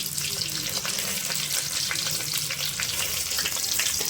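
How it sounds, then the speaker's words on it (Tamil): Steady crackling sizzle of modakathan keerai greens sautéing in hot oil, continuous and close, with occasional soft stirring scrapes and no talking. "இந்த கீரையை நல்லா எண்ணெயில் வதக்கி"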